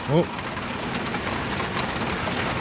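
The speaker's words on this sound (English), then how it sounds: "It's kind of a weird downpour because the sun's still out." A heavy sun-shower downpour pours outdoors beside a 1975 Chevrolet El Camino under repair, making a dense, steady hiss throughout, with a brief voice-like chirp at the very start.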